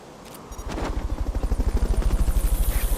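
Helicopter in a Kojima video game during a Fulton recovery, rotor thumps quickly building from nothing into a loud, steady, rapid chopping pulse.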